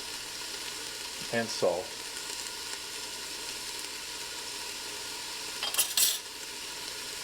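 Vegetables sizzle steadily in a pan, a constant bright hiss broken by two short bursts of utensil scraping and clinking, with a brief spoken remark near the start.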